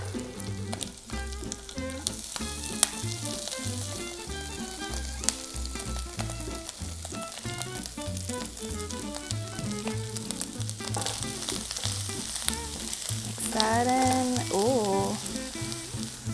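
Dried shrimp fry in hot oil in a pan for Chinese radish cake, a loud continuous sizzle with stirring clatter close by, and a faint voice near the end.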